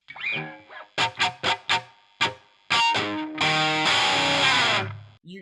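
Distorted electric guitar strums a few choppy chords, then rings out a sustained chord that slides down the neck, from a solo lick, loud and close with no talking.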